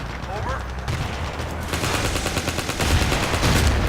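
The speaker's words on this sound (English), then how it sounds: "Let's shoot some 4 shots in single fire though." Rifle shots from a USMC weapon in the BFHD Pro 2 shooter game, sharp reports in a busy firing sequence that grows louder and denser after the first second, with a voice faintly under the shots.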